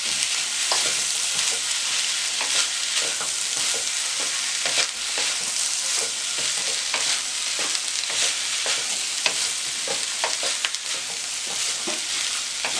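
Vegetables hiss and sizzle in a hot pan for fried chicken rice while being stirred, a steady loud frying noise with scraping stir sounds and no talk.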